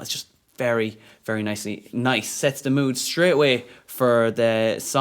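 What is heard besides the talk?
No everyday noises stand out.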